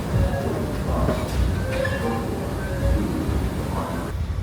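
A train pulling in at track 6 on a station platform, a continuous loud rumble of wheels and rail noise with faint squeals and a hollow, echoing station ambience.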